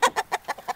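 Close, quick clucking from chickens, about five short bursts in an uneven rhythm with no talking.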